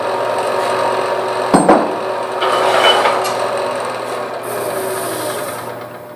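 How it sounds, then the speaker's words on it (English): A skew chisel cuts a slight dovetail tenon on a wood lathe while hollowing a vessel. It makes a steady, close scraping rasp, with a brief knock partway through, and nobody speaks. "I'm going to use my skew chisel, create a slight dovetail tenon in here that I can grab with a bigger chuck"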